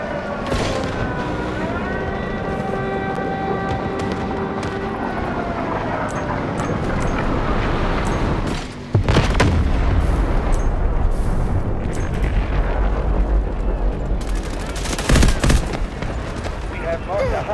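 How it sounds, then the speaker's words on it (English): Guided missiles launch and explode in the shooter Delta Force, a loud sustained roar with rumbling blasts and a sharp burst near the end, mixed with game sounds and some voice. "Guided missiles launched."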